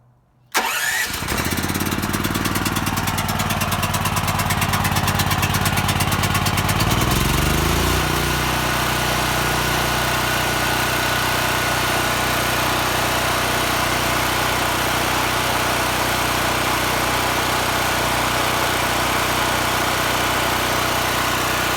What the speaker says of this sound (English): Turn our gas on, put our choke on, and hit the switch.